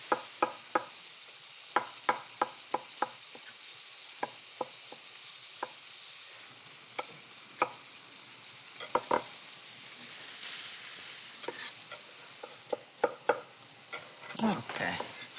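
Peppers fry in a pan with a steady bright sizzle while a utensil stirs them in sharp knocks and scrapes, close and fairly loud, with busier stirring near the end.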